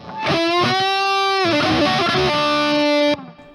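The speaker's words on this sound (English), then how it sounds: "I have overdrive preamp, kind of like a less distorted distortion" An electric guitar played through an overdrive preamp pedal sounds a few loud, sustained, mildly distorted notes and chords, close and clear, then cuts off sharply.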